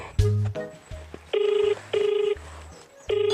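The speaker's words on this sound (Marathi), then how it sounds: "नाना लावा की फोन कमिशनरला." A telephone is dialed to reach the police commissioner in a comedy sketch, with three clean electronic ring tones repeating in a steady pattern after a short burst of keypad beeps, loud and close.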